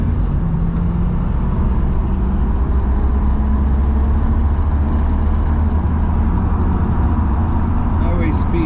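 A 1978 Corvette C3 Indy Pace Car with a 350 engine, turbo 350 transmission and 3.73 gears cruising at highway speed. A steady, loud drone of engine and road roar runs throughout with no letup.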